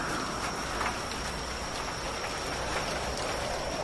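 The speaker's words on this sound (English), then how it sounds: "At our first rainy day here." Steady rain falling in a video game, a dense, even hiss of drops on surfaces that continues unbroken throughout, with a faint high tone running underneath and no voices.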